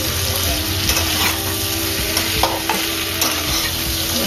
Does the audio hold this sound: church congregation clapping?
no